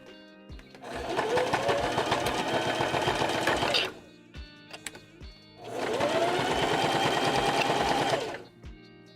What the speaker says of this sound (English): Yeah, it looks like it's actually sewing.